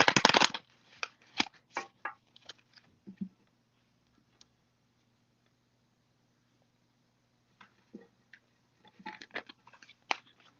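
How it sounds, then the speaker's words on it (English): Tarot cards being shuffled by hand in a quiet room, with bursts of riffling and tapping at the start and end separated by near-silence. "I'm gonna shuffle these cards really quick"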